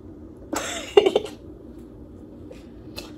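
A single close cough followed by a couple of short throat-clearing bursts, then near silence with a faint sound near the end.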